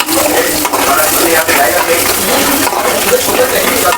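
Garlic fries in a pan for Marathi-style aloo bhaji, a continuous close sizzle with brief stirring scrapes and small dips in the hiss.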